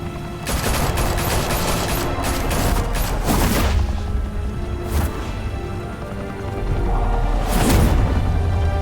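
Sustained bursts of gunfire from a Batman: The Telltale Series shootout fill the scene, loud and dense, with rattling volleys and heavy booms, brief lulls, then a fresh surge toward the end; no voices.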